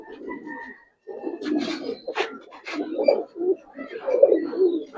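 A Silver Jabra line pigeon coos repeatedly close by in a pigeon collection, a run of low throaty calls after a brief pause, with no speech over it.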